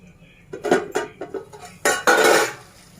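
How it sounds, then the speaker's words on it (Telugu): A metal lid is set onto a cooking pot of frying onion and spices for a potato and meal maker curry, with several light clinks and a louder clattering knock near the end. "మూత పెట్టేసుకుందాం."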